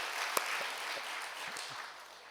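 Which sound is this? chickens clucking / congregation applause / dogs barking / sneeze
congregation applause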